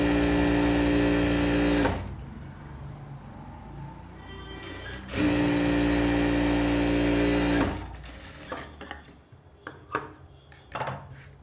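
Sewing machine running two steady bursts of edge stitching along a blouse lining piece, each lasting a few seconds with a constant motor hum, followed by lighter handling clicks and fabric rustle.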